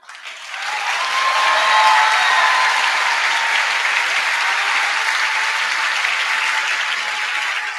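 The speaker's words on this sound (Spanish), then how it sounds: "este aplauso que han recibido estos profesores" Graduation audience at a medical school ceremony applauding professors, a dense, steady wash of clapping that swells quickly and holds for several seconds without talk.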